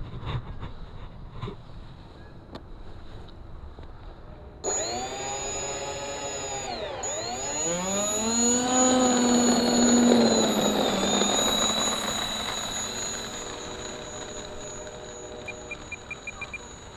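An LX-Models RC YF-23 jet taxiing on the ground, its turbine spooling up abruptly with a rising and falling whine and steady roar that swells, then eases, close by.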